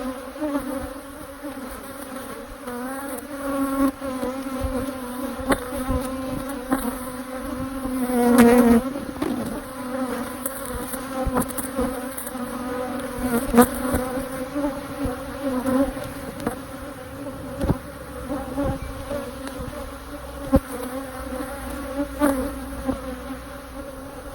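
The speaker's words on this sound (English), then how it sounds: "I'm sure you can hear the buzzing." Dense, agitated buzzing of honey bees swarming over an opened hive while swarm cells and drone comb are cut out, a steady close drone with surging swells and no talking.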